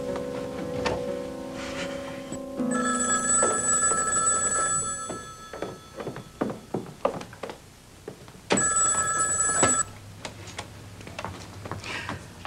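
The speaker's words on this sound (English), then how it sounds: "Oh, there's the phone." An old-style telephone bell rings in an inn's front room, two loud bursts of ringing separated by a pause, with ticking and small clicks between rings.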